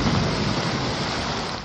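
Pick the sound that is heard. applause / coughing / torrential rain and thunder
torrential rain and thunder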